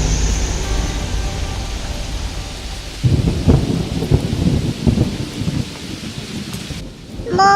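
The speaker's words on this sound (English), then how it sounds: "It is raining heavily." Heavy rain pours in a children's cartoon while thunder rumbles, a dense roaring downpour with a sharp crack and rolling booms midway, loud and close, with no voices.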